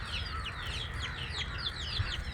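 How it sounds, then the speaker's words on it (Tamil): Country chickens cluck and chatter in a rapid, overlapping stream of short calls at moderate distance, continuing throughout with a faint background hum. "இதோ இருக்காங்க கோழிங்க."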